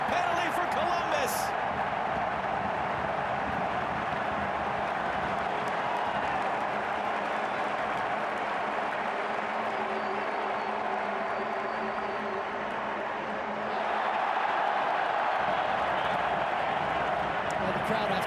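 A stadium crowd at a Columbus Crew versus FC Cincinnati soccer match keeps up a broad, steady roar after a penalty is given, swelling slightly near the end, with a commentator talking over it.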